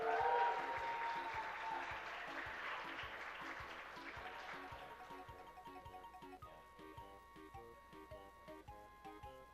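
Cheers and applause from a crowd at a Super Castlevania IV speedrun event, loud at first and tapering off, while game music with a steady beat plays underneath and carries on after the clapping fades.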